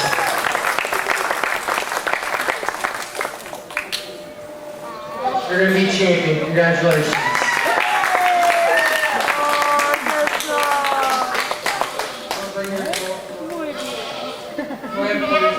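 Crowd applause rings out at a county fair meat goat show, steady clapping from many spectators that swells midway, while an announcer speaks over it and goats bleat nearby.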